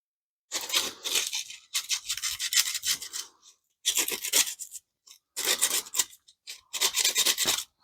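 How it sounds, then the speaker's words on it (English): Abrasive rasping on cut tin edges, sanding off burrs while building a hobo stove, in five close, loud bursts of rapid back-and-forth strokes separated by short pauses. "I'm just smoothing out the edges"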